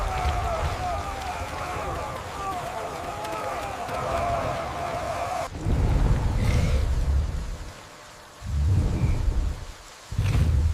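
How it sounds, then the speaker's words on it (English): A thunderstorm brings heavy rain and deep rolling thunder in repeated loud bursts, with dramatic scored sound and possible voices mixed in before the rumbles take over. "The storm passed"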